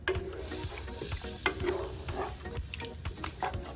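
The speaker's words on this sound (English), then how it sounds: "Just mix everything together." Catfish peanut soup ingredients stirred together in a pot, a close scraping, sloshing stir with soft wet sizzling throughout, no voices.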